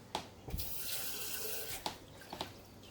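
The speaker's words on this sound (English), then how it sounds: "I'm going to add a little water to it." Tap water runs steadily into a pot for a few seconds, a close hissing rush with a couple of knocks and clinks.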